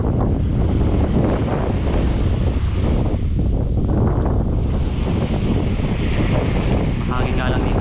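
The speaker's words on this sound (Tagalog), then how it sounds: "Hangin nga lang dito." Strong wind buffets the microphone on a beach in Palawan during fishing, a loud continuous roar with gusty surges and surf mixed in, and someone speaks briefly under it.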